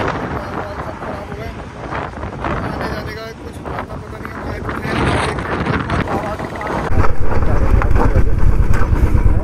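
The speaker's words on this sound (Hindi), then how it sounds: "यहाँ पे पड़ चुकी है बारिश, बहुत ही तेज तूफान है।" Strong storm wind blasting through a mountain road stop after rain, loud, steady roaring gusts buffeting the microphone, growing heavier and deeper toward the end.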